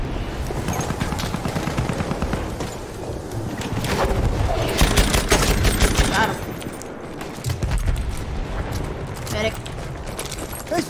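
Revolver gunfire in the World War I shooter game Battlefield 1, repeated sharp shots scattered through a loud, dense battle din, with a voice talking over much of it.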